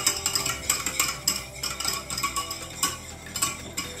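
Prawn mixture stirred in a bowl or pan at close range, with a rhythmic series of scraping and clinking utensil strokes and no talk.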